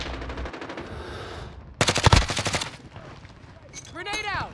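Rapid automatic gunfire in Call of Duty Modern Warfare ground war combat, dense bursts of shots building to a loud close volley, with crackling battle ambience and a faint rising whistle near the end.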